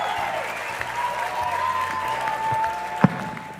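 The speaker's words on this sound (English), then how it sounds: "Can you hear that crowd tonight?" A packed live audience at a honky-tonk music show claps and cheers in a sustained roar, with a sharp louder burst near the end and steady room noise beneath.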